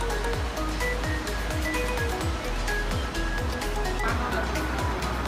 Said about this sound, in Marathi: तर पाण्याचा आवाज खूप येत असेल आणि इथे दोघांचा संगम झाला आहे